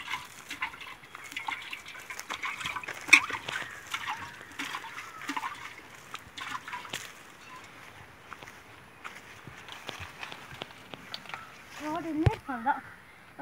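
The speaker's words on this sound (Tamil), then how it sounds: "உயிர் தண்ணி விடணும்." Water is poured onto newly planted seeds, a soft intermittent splashing and trickling that comes close and faint, with scattered footsteps and a brief voice near the end.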